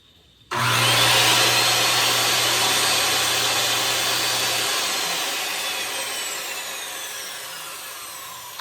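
A vacuum cleaner starts abruptly and runs loudly and steadily beside model train benchwork, a broad whooshing roar with a low hum that gradually softens toward the end.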